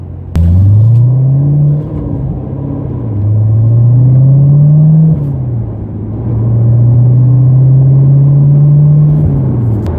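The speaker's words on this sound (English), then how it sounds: "Acceleration is very good in this vehicle." A 2017 Chevrolet Corvette engine revs up loudly through several gears, each rising whine dropping as it shifts, heard close from inside the car.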